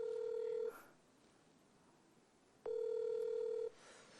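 Electronic phone ringback tone from an unanswered call, two steady rings about a second long with a quiet gap between them, clear and alone with no one speaking.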